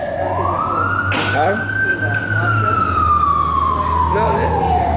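A wailing emergency siren from an ambulance or fire truck sweeps slowly up and down, loud and continuous through the clip, with brief voices and a low engine rumble underneath.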